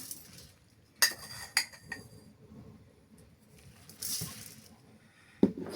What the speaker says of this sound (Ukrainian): Все це перемішую.